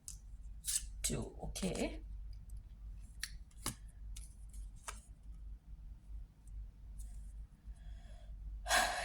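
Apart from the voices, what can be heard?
tarot cards being drawn from the deck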